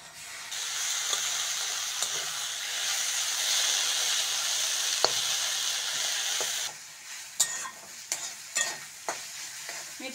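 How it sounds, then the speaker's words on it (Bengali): Fenugreek leaves and potato fry in a pan with a steady, loud hiss for several seconds, then the sizzle drops and a spatula scrapes and taps in quick, irregular strokes. "প্রথমে বন্ধুরা আলু দিয়ে মেথি শাকটা ভেজে নিচ্ছি।"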